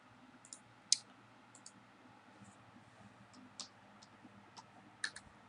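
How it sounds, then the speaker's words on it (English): Faint, scattered clicks of typing on a computer keyboard, irregular single keystrokes with occasional sharper taps, quiet against a low steady room hum. "Just typing that in right now."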